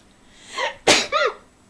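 A single sharp human sneeze with a breathy intake before it and a short voiced tail after, close and loud against a quiet background during a gaming session.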